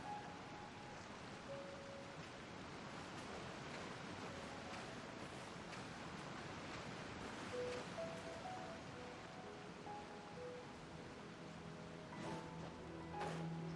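Steady broadband water rush from a waterfall in Genshin Impact, continuous and fairly loud across the whole stretch, with faint game tones and chimes layered over it and no talk.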